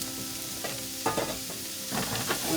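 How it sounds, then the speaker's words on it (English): Onions and celery saute in a hot pan for an Italian meatloaf, a dense close sizzle with a couple of stirring scrapes rising and falling over a few seconds. "We're going to start sauteing off our onions and our celery."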